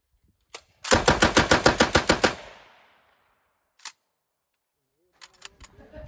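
A Lewis gun fires one loud, close burst of about a dozen rapid shots at an Alaska Machine Gun Association shoot in Anderson, then its echo rings out; a few faint knocks and rustles follow.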